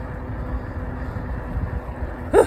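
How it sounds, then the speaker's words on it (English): Strong, cold wind buffets the microphone on a moving Ecotric fat-tire e-bike, making a steady low rumble with a short sharp burst near the end and no speech. "Boy, that wind is strong out here."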